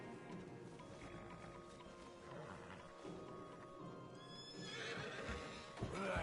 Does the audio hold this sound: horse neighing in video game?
yes